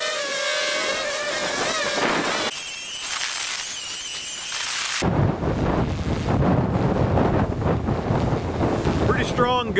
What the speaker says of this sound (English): Another big gust right now at over 35.